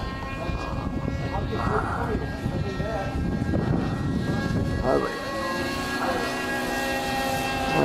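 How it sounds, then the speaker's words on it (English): Propeller engine of a Douglas A-1 Skyraider droning overhead, a steady rough roar with wavering pitch that swells and fades through the clip, with voices talking over it throughout. "There's A1 Sky Raider up there."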